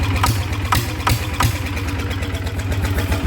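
A steady engine idle through an aftermarket exhaust with a deep, throaty rumble and a rhythmic low pulse, loud and close, with periodic sharp pops breaking through.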